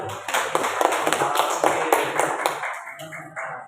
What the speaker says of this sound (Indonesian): Kita berikan dulu aplaus untuk kelompok 1.